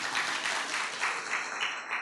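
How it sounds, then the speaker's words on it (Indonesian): An audience claps briefly at a church gathering, a short burst of moderate applause with a fairly even texture. "Iya hebat loh, tepuk tangan dong."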